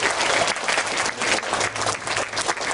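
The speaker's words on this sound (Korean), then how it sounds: "우리 하나님께 감사의 박수를 한번 부탁드립니다" A congregation at a children's revival church service applauds in thanks, a dense, even burst of many hands clapping with no voices on top.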